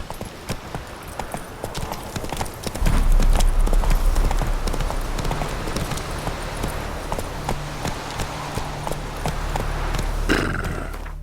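Roach the horse gallops in The Witcher 3, a steady rapid clip-clop of hooves that runs loud and close through most of the stretch after a quiet start.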